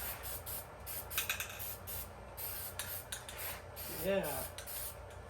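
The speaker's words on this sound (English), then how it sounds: "Let's just spritz a little paint on there. Some silver will look pretty good, I think." Aerosol can spraying silver flake paint onto a metal part in a workshop, heard as several short hissing bursts of varying length with brief pauses, fairly close, with someone speaking briefly over it.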